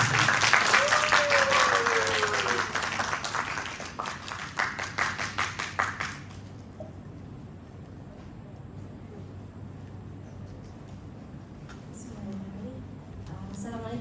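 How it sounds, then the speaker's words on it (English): An audience claps warmly as a speaker is welcomed onto a stage, loud dense applause that thins into scattered claps and fades out after about six seconds, leaving a quiet room with faint murmurs. "Let us give a warm applause to welcome Aainaa to the stage"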